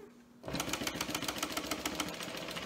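A sewing machine back stitches on the zipper tab of a waterproof canvas zipper pocket. After a short quiet start it runs in a fast, even rattle of stitches, close and steady.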